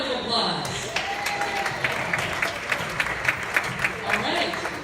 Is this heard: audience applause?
yes